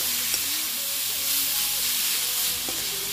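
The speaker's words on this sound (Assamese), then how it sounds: "এইখিনি আমি এতিয়া ভাজিব লাগিব ভালদৰে" Dried fish frying steadily in a pan over low gas, a close, constant crackling hiss with faint stirring, while a voice speaks softly underneath.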